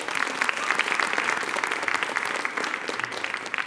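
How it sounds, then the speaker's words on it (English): Audience applause for faculty and staff at a university School of Communication awards event, a steady, dense round of clapping from a large crowd, sustained evenly throughout with no talk. "Can we give them a round of applause, please?"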